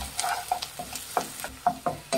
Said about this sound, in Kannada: ಅಲ್ಲಿವರೆಗೂ ಮೀಡಿಯಂ ಫ್ಲೇಮಲ್ಲಿ ಇಟ್ಟು ಫ್ರೈ ಮಾಡಬೇಕಾಗತ್ತೆ